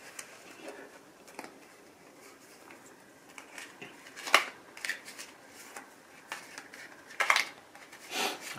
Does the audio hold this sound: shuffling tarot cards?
yes